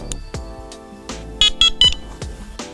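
An ABSOLUM Prowess metal detector, powered by a 9-volt battery, beeps as it is switched on: a series of sharp electronic tones, with three loud close beeps clustered near the middle among fainter clicks and hums.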